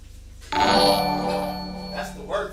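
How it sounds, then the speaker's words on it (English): A work phone rings with a steady, bright electronic ring that starts abruptly and carries on for the rest of the moment, with voices heard faintly near the end. "That's the work phone, bro."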